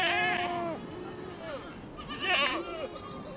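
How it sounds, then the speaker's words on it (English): Sheep and goats from a desert flock of nearly 400 bleat in a few drawn-out calls, close and fairly loud, with pauses between them. "Here, Gert Titis shepherds a flock of almost 400 sheep and goats."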